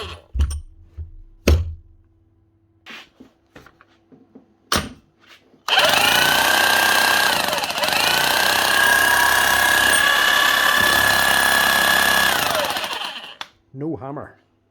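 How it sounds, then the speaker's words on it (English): Makita HM1200K electric demolition hammer, in need of service after wrong grease was used, runs loud and steady for about seven seconds with a whining motor tone, after scattered knocks and handling sounds. "HM1200K Makita hammer."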